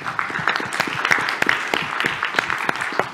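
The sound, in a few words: conference audience applause for sponsors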